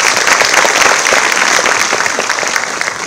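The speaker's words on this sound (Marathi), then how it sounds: "त्यासाठी तुमच्यासाठी एकदा खूप जोरदार टाळ्या झाल्या पाहिजे" Loud, dense applause from a large audience at a Marathi public event, many hands clapping in a fast continuous roar that holds steady with no talking over it.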